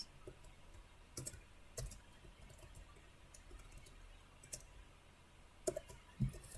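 A computer keyboard being typed on while writing a bash script, scattered light clicks and short bursts of keystrokes at an irregular pace, close and fairly quiet with no talk.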